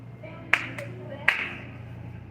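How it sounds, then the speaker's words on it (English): Hands clap a few times, sharp and close, in a store aisle, with a low hum of the store behind and some talk nearby. "Stop clapping."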